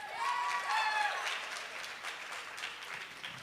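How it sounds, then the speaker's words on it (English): Steady crowd applause fills the clip, loud at first then easing slightly, with a few voices or cheers blended into the clapping. "you got some applause from the crowd that time"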